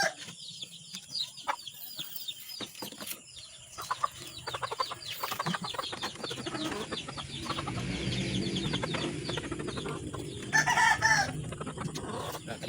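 A Texas gamefowl rooster crows loudly and nearby amid other clucking fowl, with scattered background noise and a busy farmyard feel.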